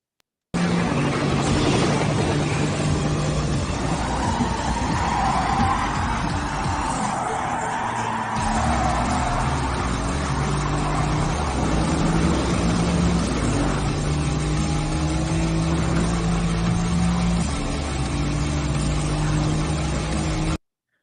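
A racing car in a driving video game, raced by the AI driver GT Sophie, runs alone through turn 16 of the Seaside track, its engine droning steadily and loudly throughout with shifting pitch as it sweeps through the corner.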